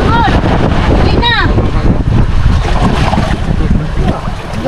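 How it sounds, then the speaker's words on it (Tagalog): Rough sea waves slosh and crash around a boat near an island, heard close and loud under heavy wind buffeting the microphone throughout, with brief voices in the background. "Grabe yung alon mga idol eh."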